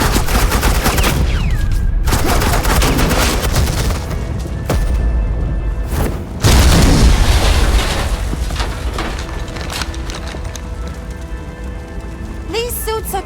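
Suppressing gunfire in a Batman game scene: dense, continuous rattling bursts under loud ambient noise, with a sharp break midway and sparser shots trailing off near the end.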